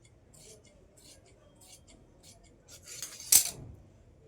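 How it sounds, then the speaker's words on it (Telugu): Scissors cutting through paper or card, a few soft snips spread across the clip and ending in one sharp, louder cut near the close. "ఇప్పుడు క్రాస్ పట్టి కట్ చేసుకుందాం"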